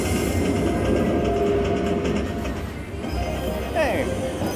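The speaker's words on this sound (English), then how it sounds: "Goes our happy dragon train." A dragon-themed slot machine game plays a train sound effect: a steady clickety-clack rumble, then a short bright whistle-like chirp near the end. A voice talks over it.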